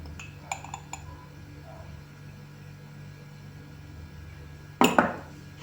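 A few light metallic clinks of a spoon against a glass jar while stirring mustard powder into cucumber pickling brine, then a brighter cluster of clatter near the end, over a faint background hum.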